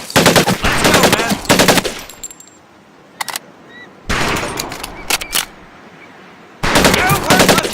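Bursts of rifle and automatic gunfire crackle in the World War II game Medal of Honor: Pacific Assault, loud sustained volleys separated by quieter gaps with scattered single shots.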